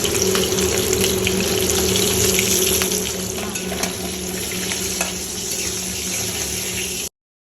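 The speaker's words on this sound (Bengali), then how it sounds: "মাছটা ভাজা হচ্ছে, একটু কড়া করে ভাজা হবে।" Tangra fish fries in mustard oil in a home kitchen, giving a steady close sizzle and crackle with a faint watery hiss underneath and no talking.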